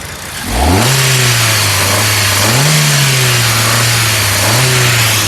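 A 2014 Hyundai i20 Sportz engine starts up loud and close, settling into a smooth steady drone broken by two quick throttle blips that rise and fall.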